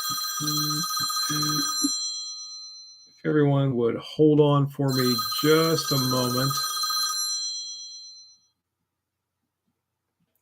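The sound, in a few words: telephone ringing during livestream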